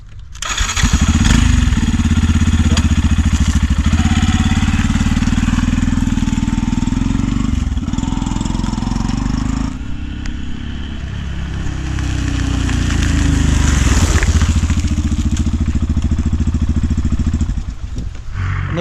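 A Yamaha FZ-FI 149 cc motorcycle starts up and rides off, its single-cylinder engine thrumming loudly up close, rising and falling with throttle changes through the ride, with a brief dip midway.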